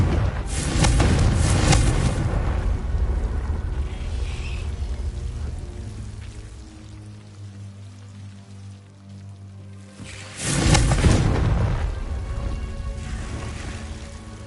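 Confringo blasting spell going off in the Hogwarts Legacy game, two loud broadband bursts a few seconds apart with a low rumbling tail between them.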